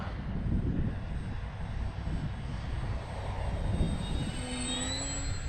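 An X-Fly Glastar V2 RC plane flies in a windy sky, its motor giving a thin, whining drone that rises and falls in pitch as it passes, heard from a distance over steady wind rush.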